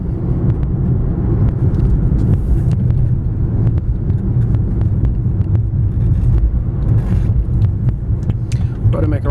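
A 2006 BMW 325i sedan accelerates on the road, heard from inside as a loud continuous engine and road rumble with scattered clicks and knocks, while someone talks over it.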